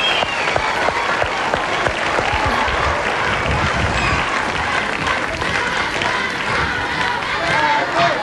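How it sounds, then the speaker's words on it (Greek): A studio audience at the Greek Super Idol 2004 final gives the two finalists a dense, sustained round of applause with crowd noise. The clapping stays steady and loud throughout, and some voices are faintly audible within it. "Το χειροκρότημά σας για τον Σταύρο και την Τάμτα."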